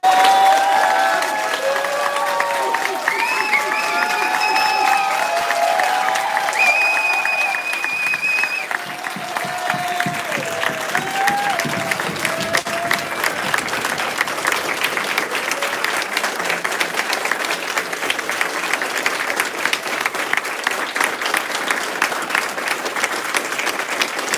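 An audience claps at a black belt ceremony, starting amid cheers and whoops and settling into sustained, dense applause from a large crowd that continues at an even level throughout.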